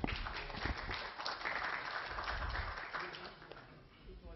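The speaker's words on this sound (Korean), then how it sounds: "큰 박수 부탁드립니다" Applause from an audience in a Korean science institute lecture hall as speakers are welcomed onto the stage, a continuous even clapping that holds for several seconds before tapering slightly.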